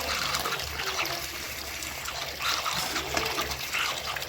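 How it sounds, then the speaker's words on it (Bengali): Lentils being washed by hand in water in a home kitchen, a steady close trickle and swish of liquid running throughout without pause. "ডালটা যত ভালো করে ধোয়া হবে তবে কিন্তু গন্ধটা কাটে"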